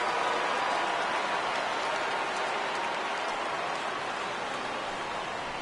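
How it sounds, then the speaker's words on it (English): Steady rain falls throughout a baseball video game on PS4, a dense, even hiss that holds at a constant level from start to finish, with no voices. "Rain continues to fall here in the 6th."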